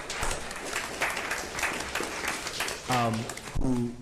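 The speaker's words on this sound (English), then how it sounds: "Let's give her a round of applause." Applause at a Jackson Public School District board meeting, a modest, fairly quiet patter of clapping from a small audience, broken by a couple of short bursts of talk near the end.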